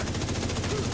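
Rapid gunfire from a video game firefight, a dense continuous burst of shots filling the whole moment at moderate loudness with faint voice traces underneath.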